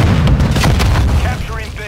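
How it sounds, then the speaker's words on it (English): A stun grenade going off in Call of Duty Modern Warfare 2 online combat, a loud heavy boom with a rumbling tail, mixed with other battle noise and brief voices. "Stun grenade out!"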